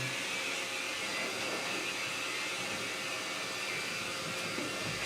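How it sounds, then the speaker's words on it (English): A kennel dryer blows on a wet doodle after a bath, a steady, loud, high-pitched motor whine and rushing air that runs unbroken, with no talking. "That's kennel dryer."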